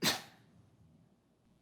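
A single sharp sneeze bursts out at the start during a historic preservation commission meeting, loud and close, then fades into quiet room tone.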